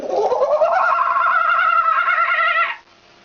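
A person imitates a kookaburra call with one loud, sustained voiced cry that rises and then holds steady for nearly three seconds before cutting off.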